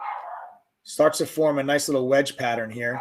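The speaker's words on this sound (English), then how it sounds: "it's my dog, guys. My dog was barking" A dog barks once, faintly in the background, before someone talks continuously over the rest of the clip.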